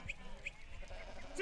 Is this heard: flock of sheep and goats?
yes